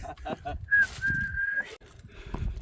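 A person whistles a sustained, steady note at close range to call birds on Geumosan mountain, with scattered soft noises and faint voices around it.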